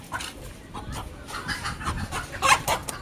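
Chickens cluck and squawk in short irregular bursts, fairly close, with a sharper louder outburst near the end; no speech.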